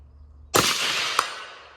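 A single sharp crack from a Ruger American bolt-action 5.56 rifle fired outdoors at a distant target, loud and close, followed by a faint metallic ping of the hit and a fading echo.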